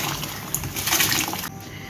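Rice is tipped into a pot of boiling water for chicken biryani, a short soft splash and slosh of liquid lasting about a second, faint and close, with no talk.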